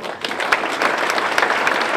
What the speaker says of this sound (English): let's give his grandson a round of applause